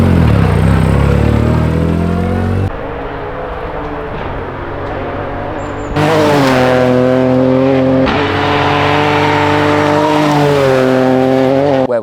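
Rally car at a shakedown test ahead of a rally event, engine loud and close throughout, rising and falling in pitch as it revs through gear changes with strong harmonic tones, no voices.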